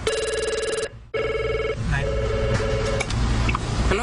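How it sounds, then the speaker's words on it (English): Telephone ringing at Freddy's Pizzeria in Long Branch, an electronic bell ring in two bursts with a brief gap, then continuing under background noise and indistinct voices. "the phone seems to never stop ringing"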